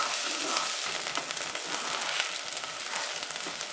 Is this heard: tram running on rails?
no